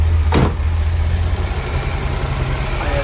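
A car engine with a Quadrajet carburetor idles at about 800 RPM with a steady low rumble, one brief sharp noise near the start, no voices.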